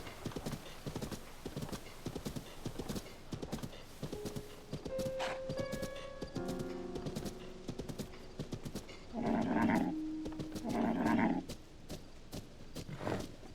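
Horse hooves clip-clop at a steady walking rhythm in the video game The Legend of Zelda: Tears of the Kingdom, joined by short melodic tones and a couple of whinnies.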